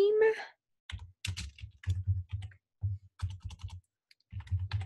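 A name being typed on a computer keyboard, several quick bursts of close, crisp key clicks separated by short pauses, with a brief voice at the start.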